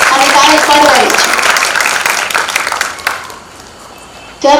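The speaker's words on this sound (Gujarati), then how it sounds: "બધા સેવાવાળાને આપણે તાળીઓથી વધાવી, આપણે બીજું કઈ કરવાનું અને તાળી પાડવાની છે." An audience claps to honour volunteers, a burst of applause mixed with a voice over it that fades out, then a brief quiet before talk resumes.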